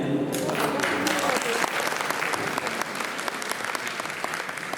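An audience at a bhajan event for a 75th birthday celebration claps loudly and steadily in rhythm, a dense burst of many hands that eases slightly toward the end, with a voice talking over it at the start.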